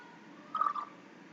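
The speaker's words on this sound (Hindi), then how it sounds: "प्रेशर कुकर में मैंने पानी डाल दिया है।" Water is poured into a pressure cooker while steam roast is being prepared, a brief soft gurgling splash in the middle of a quiet, low background hiss.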